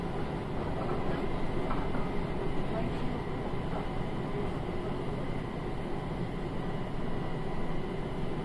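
Linimo automated maglev train running between stations in Aichi, Japan, a steady loud cabin rumble and whoosh of motion heard from inside, continuous with no pauses.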